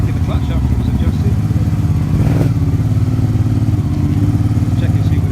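Motorcycle engine running steadily at close range with a rough pulsing idle during a clutch check after adjustment at a race round, one brief louder rev midway.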